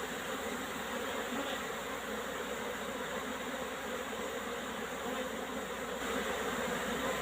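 Honeybees flying en masse at a countryside apiary on a warm, dry spring day, a dense, continuous buzzing swarm filling the air, loud and close, with no voices.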